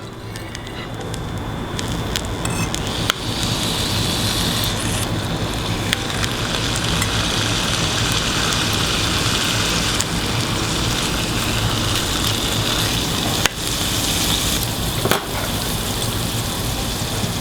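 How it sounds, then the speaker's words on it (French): Asparagus roasts in a pan with a little butter, producing a loud, constant close-up sizzle and crackle, broken by a few sharp clicks and pops. "Le fait de faire rôtir nos asperges, de les faire juste légèrement blondir."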